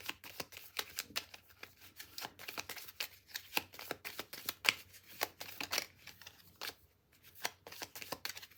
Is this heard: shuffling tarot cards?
yes